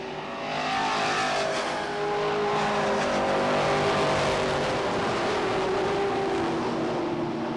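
Stock cars race at Beech Ridge Motor Speedway in a 1991 feature, a loud continuous drone of many engines whining and revving together around the track.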